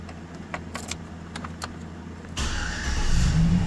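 Ignition of a 2008 GM truck: a few faint clicks and key jingles, then the engine cranks and catches, settling into a rising idle rumble near the end.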